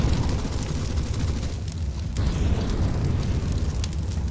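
Fire set in the video game CS:GO, a loud, continuous roaring burn with crackling and short bursts, steady from start to end.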